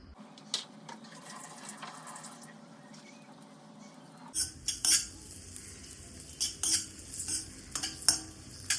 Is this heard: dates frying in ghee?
yes